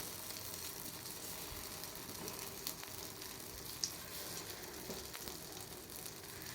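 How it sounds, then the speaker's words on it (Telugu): Dosa batter sizzles and fries in hot oil in the cups of a paniyaram pan while making gunta ponganalu, a soft, steady hiss with faint crackles throughout, heard alone and fairly quiet. "నూనె బాగా వేడెక్కిన తర్వాత ఈ గుంటల్లో పిండి అయితే వేసుకోవాలండి"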